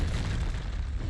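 A Confringo blasting spell exploding in the Hogwarts Legacy video game, one loud, dense, booming blast that fills the short moment with no one talking.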